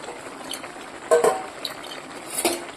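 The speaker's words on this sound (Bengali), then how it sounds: "চলো এবার শুকনো মাছটা দিয়ে দেব" Washed, fried dried fish is added to a pan of mashed vegetable curry, producing a couple of short clattering knocks and utensil clinks over a soft background hiss, close and moderately loud, with no talk.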